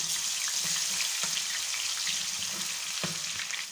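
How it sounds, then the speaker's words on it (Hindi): Ginger garlic paste frying in hot oil for a fish curry, a dense, continuous sizzle with occasional pops and stirring scrapes, close and with no voices. "अब हम 1 टेबल स्पून अदरक लहसुन का पेस्ट शामिल करेंगे ऑयल में।"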